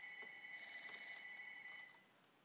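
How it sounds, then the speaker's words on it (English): A telephone rings faintly in the background of the video game The Escapist, a steady electronic trill that holds for about two seconds and then fades, with no talk over it. "the phone's ringing in the background"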